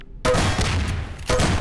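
Shotgun blasts in Half-Life 2 Deathmatch, two loud booming shots about a second apart, each with a long rumbling tail, close and dominant.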